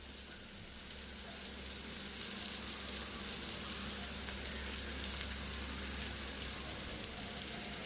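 Tamarind leaves and nethallu, small dried fish, frying in a pan give a steady, even sizzle with a fine crackling hiss throughout, close and moderately quiet, with one small pop near the end.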